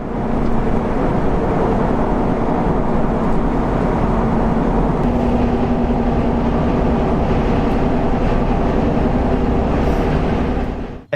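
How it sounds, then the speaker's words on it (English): Steady, loud tire and road roar inside a Jeep cruising at 55 mph, a continuous low rumble with no talking. "They both let all the tire noise in"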